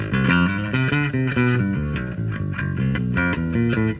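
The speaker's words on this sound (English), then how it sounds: "Basically, that's what this bass sounds like without a preamp." An old-school Peavey Milestone bass guitar on its front pickup with no preamp, playing a steady run of plucked notes, round and bassy, close and alone.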